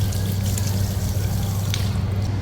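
Hot water running steadily from a garden hose hooked up to wash an old, crumbling evaporator coil, a constant close hiss and trickle with a low rumble underneath, no breaks.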